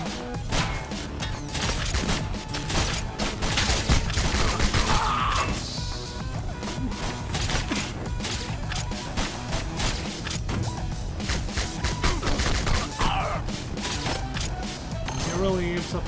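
Enemy gunfire from Bionic Commando Rearmed rattles in dense bursts under a busy wash of game effects and music, steady and fairly loud throughout.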